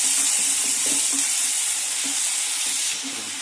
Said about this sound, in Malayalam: നമുക്ക് ചെറുതായി അരിഞ്ഞു വെച്ചിരിക്കുന്ന ഈ സവോള ചേർത്ത് കൊടുക്കാം.